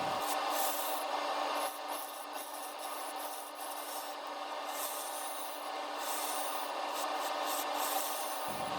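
A bowl gouge hollows a dense padauk and resin bowl spinning on a lathe, giving a steady close scraping, rasping hiss that runs unbroken for several seconds with slight swells in loudness.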